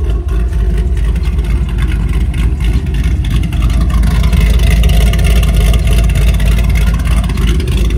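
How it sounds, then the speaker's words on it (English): A Cadillac CTS-V with a 6-liter V8, Corsa exhaust and mufflers, shorty headers and a Summit X-pipe idles and burbles loudly and close, a deep, steady rumble that holds throughout with no voices. "This is the 6-liter car with the Corsa exhaust."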